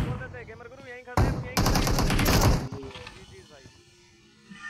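Gunfire from PUBG Mobile gameplay comes as a sudden loud burst of rapid automatic shots, with a voice shouting over and around it.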